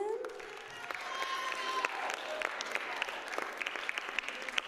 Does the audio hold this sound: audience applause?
yes